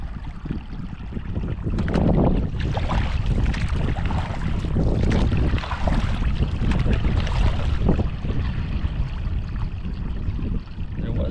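Steady wind roars and buffets the microphone on Tomales Bay as a boat drifts, a loud, continuous gusting rush with faint water movement beneath, no speech.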